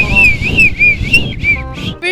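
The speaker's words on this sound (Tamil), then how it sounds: "நான் விசில் அடிச்சுட்டே பாடுவேன்." A person whistles a wavering, sung melody in bright sustained phrases with short pauses, close and fairly loud, over a low background murmur, the tune continuing in several connected bursts.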